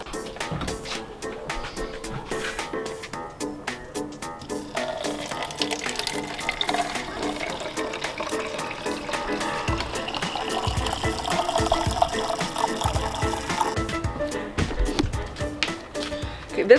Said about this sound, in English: I need my large plastic bottle first, and it says to fill it up to the shoulder.